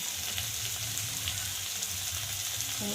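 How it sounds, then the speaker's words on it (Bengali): Spice masala of ginger, garlic and onion with chili powder, turmeric and salt fries in a pan for a rohu fish kalia, giving a steady, close, even sizzle with no talk. "একটু মশলাটাকে একটু ভাজবো, যতক্ষণ না আদা রসুন পেঁয়াজের একটু কাঁচা গন্ধটা যাবে ততক্ষণ একটু ভাজবো"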